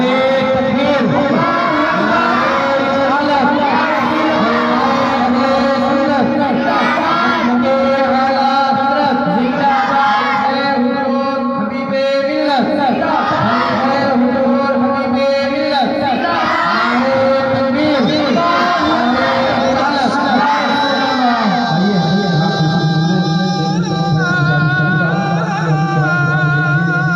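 A large crowd at a religious conference commemorating the martyrs of Karbala chants the Takbir slogan in unison, loud rhythmic collective voices repeating together with strong resonant tone, sustained without pause.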